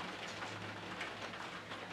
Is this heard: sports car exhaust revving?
no